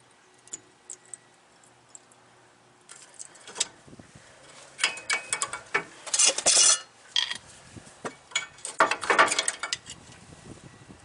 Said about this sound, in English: I'm going to leave this one on here while I compress this piston. I'm just going to use a big pair of channel locks